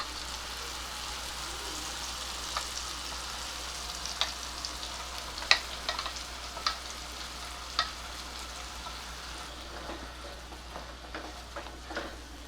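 Ground masala paste is added to cooked tomatoes in a pan for a soya chunk curry, giving a faint, steady sizzle with occasional light clicks of a stirring spoon, close by and quiet.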